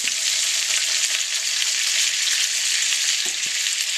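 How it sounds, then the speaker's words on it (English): Chuck roast searing in a frying pan, giving a steady loud sizzle and crackle throughout with a few small spatters and no talk. "I'm getting the other side seared before I roast it"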